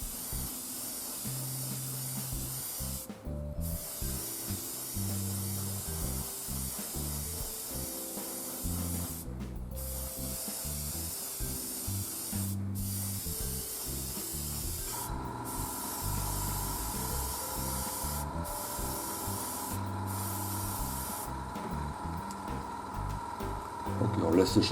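An airbrush sprays metallic paint onto a spoon in a steady hissing stream, broken by brief pauses between passes, while a voice talks quietly underneath.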